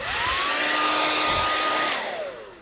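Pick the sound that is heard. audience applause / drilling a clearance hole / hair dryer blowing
hair dryer blowing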